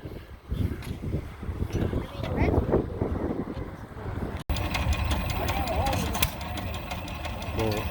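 At a threshing show, a Farmall cultivator tractor or a single-cylinder stationary engine idles with a low, steady knocking rumble. Wind buffets the microphone, voices talk nearby, and the sound cuts abruptly partway through.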